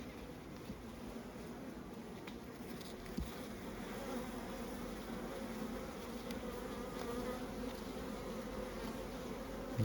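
A dense, steady drone of many honeybees buzzing in an opened hive fills the clip, close and continuous without pause.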